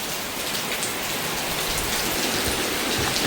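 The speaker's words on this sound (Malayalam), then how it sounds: "വലിയ കുഴപ്പമില്ലാത്ത മഴ പെയ്യുന്നുണ്ട്" Rain falling close by, a dense, steady hiss of drops pattering on surfaces without pause.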